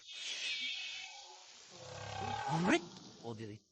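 Whale song recorded underwater: drawn-out tonal moans, then a loud rising sweep and a short burst of low grunting pulses, all fairly close and with no voices.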